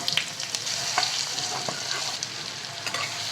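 Chopped onion stirring and sizzling in a generous amount of hot oil with mustard seeds, asafoetida and turmeric for Satara-style mahadya, a steady close frying hiss with scraping spoon strokes and no talking.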